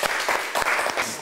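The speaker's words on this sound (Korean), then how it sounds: "박수 한번 주세요." An audience bursts into a short round of applause at a workplace gathering, a dense patter of many hands clapping close and loud for about a second.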